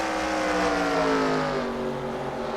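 Race cars in a racing video game roar side by side around a track, a steady, loud engine drone with rising and falling pitch as they accelerate, continuous and without talk.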